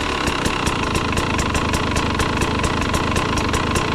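A KTM 300 TBI dirt bike engine settles back to idle, a steady close-up two-stroke putter with evenly spaced firing pulses and a constant mechanical hum, no voices.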